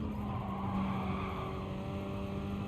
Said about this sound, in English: You can hear the screech and then you just lose time